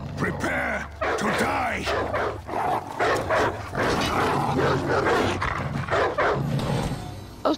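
Dogs bark and growl during a raid in the video game For Honor, with repeated barks over loud combat noise and someone talking excitedly throughout.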